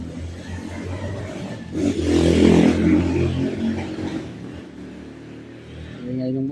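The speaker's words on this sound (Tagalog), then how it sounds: "Ingay ng motor." A motorcycle engine rises and revs past outdoors near a plywood house, swelling loud in the middle and then fading back to a steady hum.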